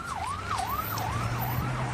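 Wailing emergency sirens on an Israeli special forces convoy driving past in southern Israel, a steady rising-and-falling sweep that repeats about four times over a low vehicle rumble, loud and close.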